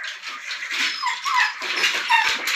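Labrador puppies whimper and whine close by in quick, high, overlapping cries, with short gaps between them.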